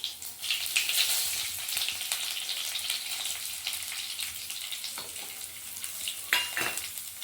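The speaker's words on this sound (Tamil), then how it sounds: "கருவேப்பிலை போட்டுக்கலாம்." Curry leaves and fenugreek hitting hot oil in a tempering for crab curry, a loud continuous close-up sizzle and crackle with a few sharper pops near the end.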